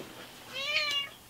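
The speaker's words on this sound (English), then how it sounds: "There appears to be a cat now." A cat meows once indoors, a single rising-falling call, moderately close and clear against a quiet room, with no talking over it.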